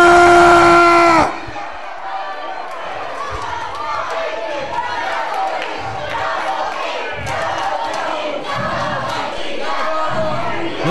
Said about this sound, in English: Listen to this crowd, Steve-O. They are loud.